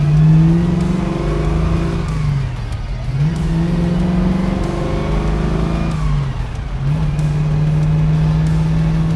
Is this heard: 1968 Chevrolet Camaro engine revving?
yes